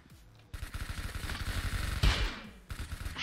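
Rapid automatic gunshots in Roblox Arsenal, a steady stream of close, punchy shots followed by a louder blast and a few more shots, with no talking.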